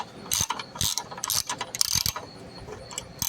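A ratchet on a long extension clicks in quick bursts while loosening a back bolt on an engine, a close metallic pawl chatter with short pauses between strokes and no talking.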